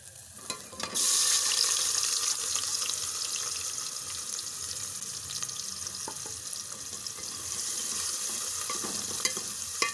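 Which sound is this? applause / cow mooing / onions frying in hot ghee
onions frying in hot ghee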